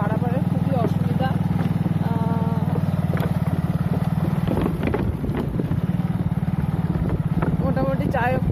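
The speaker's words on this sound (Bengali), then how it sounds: "ভাবছি কি করে পেরোবো ওই বাইক নিয়ে" A motorcycle crossing a very narrow footbridge over a canal runs with a steady, close engine drone throughout, broken by a few brief scrapes and knocks, while wind buffets the microphone.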